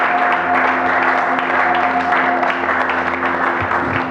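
A church congregation on its feet applauds and cheers for the Lord Jesus, a dense, steady wash of clapping and voices filling the room at close range from start to finish, with a sustained tone held underneath.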